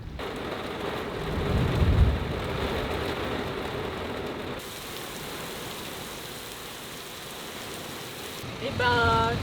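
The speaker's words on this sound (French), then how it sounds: "On est au plein milieu d'un énorme orage." Steady heavy rain roars throughout a large thunderstorm, with low rumbling thunder swelling near the start; a brief faint voice-like tone appears at the end.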